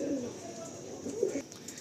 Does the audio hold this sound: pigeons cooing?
yes